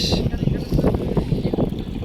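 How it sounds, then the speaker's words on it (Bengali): Strong wind sweeps across a river, buffeting loudly in rough, rumbling gusts for the whole stretch, with a faint voice briefly underneath. "কি বাতাস!"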